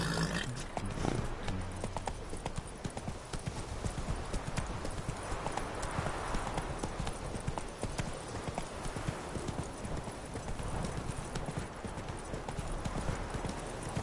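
Roach the horse trots along in The Witcher 3, hooves clip-clopping in a steady, continuous rhythm at moderate volume, with brief game dialogue mixed in.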